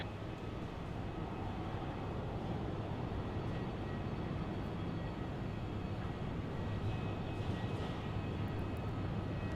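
An Alliance Fokker 100 jet airliner at Brisbane Airport, heard as a steady, distant jet roar that stays broad and even throughout with no talk.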